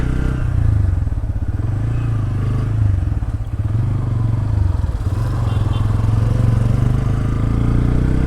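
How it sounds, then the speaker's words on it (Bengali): Five motorcycles ride together on a bike tour from Bandarban to Cox's Bazar, a loud continuous engine drone with rumbling and clatter close by. "পাঁচটা বাইক"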